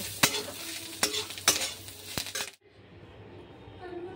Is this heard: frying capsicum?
yes